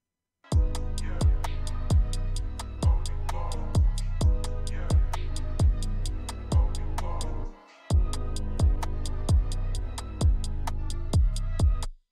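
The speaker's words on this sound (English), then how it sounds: "how I EQ'd the kick" An EQ'd kick drum and 808 bass programmed in FL Studio hit in a steady, punchy loop of deep thumps with sustained low tails, pausing briefly partway before the pattern resumes.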